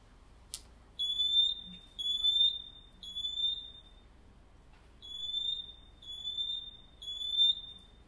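A smoke alarm sounding during a home safety product demo, giving six loud, shrill, steady beeps about a second long, in two groups of three with short gaps, against a quiet room.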